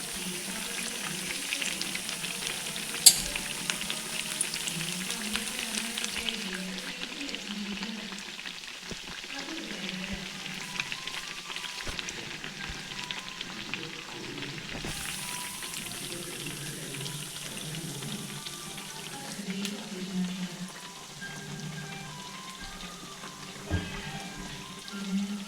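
Papaya fritters frying in oil produce a steady bubbling sizzle that runs under rain and watery background sounds, with occasional faint clicks and no speech.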